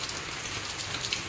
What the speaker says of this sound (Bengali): 6টা থেকেই বৃষ্টি পড়ছে।